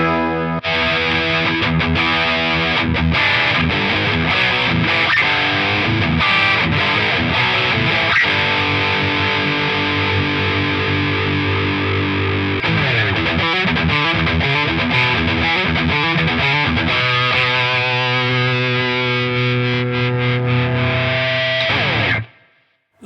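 A heavily distorted electric guitar through a Marshall-style amp with a Rev G3 high-gain pedal plays loud, saturated chords and riffs for over twenty seconds, thick and sustained, then cuts off abruptly at the end.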